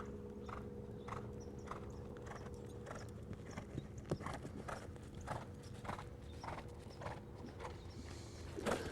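A horse's hooves clip-clop at a steady walking rhythm during a training session, distinct regular beats over a faint low hum, with no talking.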